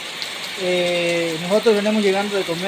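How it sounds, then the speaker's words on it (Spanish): Heavy rain pours down in a hilly area, a steady broadband hiss throughout, with someone speaking over it. "está lloviendo fuerte"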